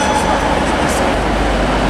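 A Class 156 diesel multiple unit runs at Liverpool Lime Street station, giving a loud, steady low rumble of engine and rolling stock close by, with no talking.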